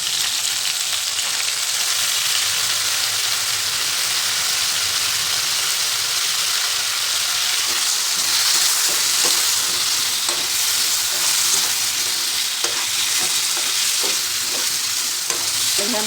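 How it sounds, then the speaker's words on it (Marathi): Whole bitter gourds stuffed with salt and turmeric sizzle in hot oil with a loud, steady, crackling hiss that carries on throughout, speckled with small pops and a few stirring scrapes. "तेल तापलेले त्यामध्ये आपण हे मीठ आणि हळद भरलेली कारली घालायची।"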